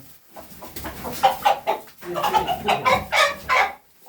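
Light Brahma chickens cluck in a series of close, loud, uneven bursts while being weighed, with short pauses between clucks.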